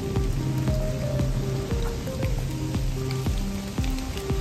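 Rain falls steadily on the jungle near Arwah cave in Cherrapunji, a dense patter of drops striking leaves and surfaces, close and constant with no voices.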